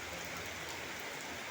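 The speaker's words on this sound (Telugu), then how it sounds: "బాగా ఫుల్లు పట్టింది, ఇప్పుడే పట్టింది వాన." Heavy rain pours down at Tadepalli gate centre near a bank, a dense, even, close hiss of drops with no breaks and no voices.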